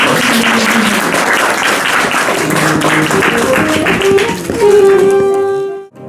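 An audience at a ghazal and gayaki evening of the Patiala and Gwalior gharanas gives a long, dense round of applause. It stays loud and steady throughout, with faint tonal sounds mixed in before it cuts off at the end.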